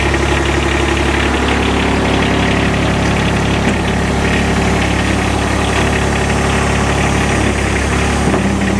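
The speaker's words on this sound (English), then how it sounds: "Gotta love that diesel sound." A 2021 Kubota RTV X1140 utility vehicle's diesel engine runs at a steady idle with a constant knocking rumble and vibration, loud and close, with no talk over it.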